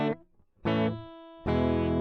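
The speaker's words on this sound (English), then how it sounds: "I'll create a live audio input channel for my guitar, which is plugged into the first input on my audio interface." Electric guitar played clean through a live audio input on an audio interface, three separate struck chords or notes with sustained harmonics, the first short, the next two ringing out loud and close with no one talking.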